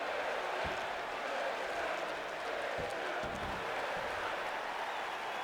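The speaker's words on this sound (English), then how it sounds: "our more pro WCW crowd cheering for Christian" A crowd cheers and claps in a wrestling video game's WCW universe-mode match, a dense, continuous roar of applause with a few sharp thumps, while a commentator's voice runs over it.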